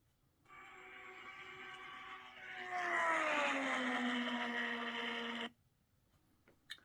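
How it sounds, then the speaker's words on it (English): A modern Indy car engine at speed during time trials at Indianapolis, a loud harmonic whine rising in pitch then falling as it passes, about five seconds, cutting off abruptly. "so that's what an Indy car from today sounds like"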